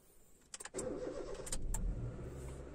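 A 2010 Honda City engine cranks briefly and catches on the first try, settling into a steady idle just after a fuel filter replacement, close and alone.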